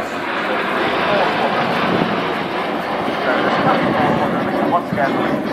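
Red Arrows jets passing at the Swansea Airshow in a wide diamond formation, a loud continuous roar of jet engines filling the air with a broad rushing drone from start to finish.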